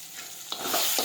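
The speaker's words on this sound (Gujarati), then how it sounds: "હવે સાતળી લઈશું. હવે આપણે મીઠું નાખીશું. હવે ગરમ મસાલો નાખીશું." Tomato and sev curry sautéing in a pan as salt and garam masala go in, a short burst of soft sizzling with a spoon stirring through it, close and steady.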